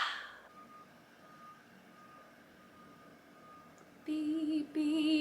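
A truck reversing gives off a steady, repeating beep, faint and distant at first, then growing louder and more prominent toward the end.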